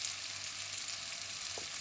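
Tomato, green chillies and ginger-garlic paste frying in a pan for masala sabudana, a soft, steady sizzle at low level with a faint brief scrape of stirring near the end.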